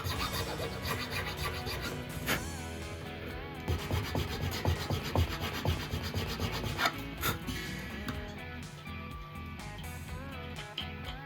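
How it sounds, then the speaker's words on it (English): File rasping in the nut slot of a Telecaster guitar, close, with repeated short scraping strokes in an uneven rhythm and no talking. "When you're filing it, you want to always make sure you're angling the file down towards the headstock."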